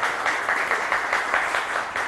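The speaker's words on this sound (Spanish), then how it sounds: "Fuerte las palmas, por favor, para nuestros artistas invitados" Audience clapping steadily for marinera norteña dancers at a marinera event in Trujillo, a dense, even wash of applause filling the whole stretch without letup.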